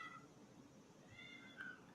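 A cat gives a few short, faint meows, one at the start and a couple more near the end, over a quiet low background hum.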